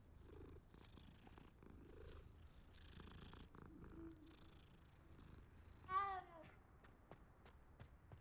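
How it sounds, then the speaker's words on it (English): A cat purring softly in the video game Hogwarts Legacy, a low steady rumble under faint game ambience, with a brief brighter meow-like call near the end. "Oh my god, a cat."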